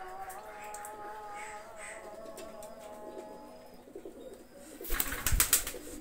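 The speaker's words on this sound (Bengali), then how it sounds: "প্রচুর কবুতর আছে এখানে।" Many Pakistani high-flyer pigeons coo in a loft while rain falls, a steady layered murmur of low rolling coos, ending in a louder burst of rustling and flapping wings.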